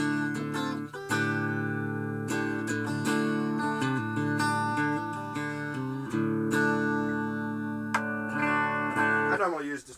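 Electric guitar with a humbucker pickup through a Rat distortion pedal rings out thick, sustained chords, strummed a few times with pauses between.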